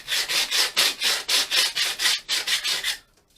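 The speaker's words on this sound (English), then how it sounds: "I'm having to just rough these up and sand some of this soot off these bits" Steady back-and-forth strokes of hand sanding as soot is roughed off RC plane engine nacelle parts, about a dozen rhythmic rasping passes, close and loud, with no talk.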